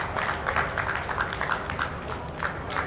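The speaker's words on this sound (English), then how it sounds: "You got a round of applause." A small group applauds with steady, moderately loud clapping that runs for several seconds at a footballers' gathering, with faint voices underneath.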